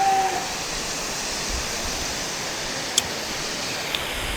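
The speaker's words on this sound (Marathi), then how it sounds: "आता आम्ही पोहोचलो इकडे नावनकोंड धबधबा." The Navankond waterfall roars as a steady, even wash of broadband rushing water heard from a short distance, with a faint brief click partway through and no talking.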